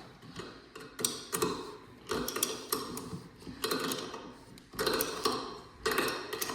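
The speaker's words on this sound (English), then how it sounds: "next would be tightening with this 7/16. This is a 7/16 wrench." A 7/16 wrench tightens nuts on the bolts of a wireless displacement gauge (crack meter) fitted to a structure, giving repeated close metallic clicking and ratcheting bursts in an uneven rhythm.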